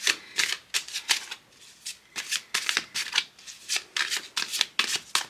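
A tarot card deck being shuffled by hand, a run of quick riffling bursts in an uneven rhythm with short pauses between, close and fairly quiet, with no talk over it.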